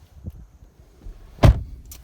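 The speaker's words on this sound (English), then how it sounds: "hopping in the rear myself and closing the door" A single solid thunk as the rear door of a 2018 Ford F150 Powerstroke diesel pickup swings shut from inside the cab, preceded by faint shuffling and a soft click, with no talking.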